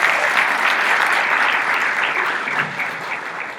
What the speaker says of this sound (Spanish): Un aplauso para don Carlos